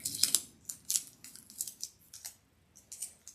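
Tape being cut by hand with scissors while a DIY wedding guestbook is assembled, giving a close series of crisp snips: a quick cluster at first, then spaced, irregular cuts with no talking.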